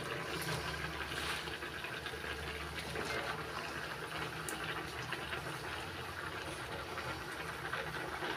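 Potatoes, radish and spinach bubble in a cooking pot, giving a steady, fairly loud broadband hiss and seething boil that holds even throughout with no talk.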